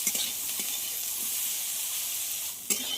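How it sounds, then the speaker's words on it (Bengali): Boiled bitter gourd and potatoes frying in a pan, a steady moderate sizzle with faint stirring scrapes at the start and near the end, no voices. "খুব ভালোভাবে আলুগুলোকে আমি ভেজে নিয়েছি। এবার এতে কেটে রাখা উচ্ছেগুলো দিয়ে দেব।"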